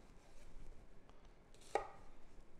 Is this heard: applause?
no